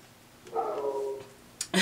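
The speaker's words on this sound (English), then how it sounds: "he's barking at a plastic bag, believe it or not." A small puppy gives a thin whining yip, followed after a pause by a couple of short, sharp barks close by, barking at a plastic bag.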